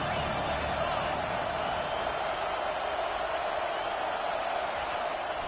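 A stadium crowd roars on third down at a Florida State football game, a dense, steady wall of cheering noise that holds at an even level throughout.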